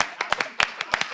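Scattered hand claps from a small group, about eight separate claps at irregular spacing over a second, close and moderately loud, with no talk over them.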